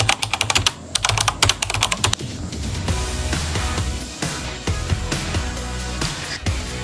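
PIN being typed into a stock trading app, a run of crisp, separate key clicks followed by a denser patter of tapping over a faint hum, close and fairly quiet, no speech.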